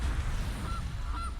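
A cartoonish goose honk from the Gilded Goose card in the digital card game MTG Arena, two short nasal honks over a low game music bed, with no talking.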